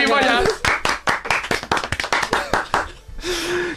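Close, quick rhythmic hand clapping from a few people in a radio studio, a run of sharp claps between bursts of excited talk.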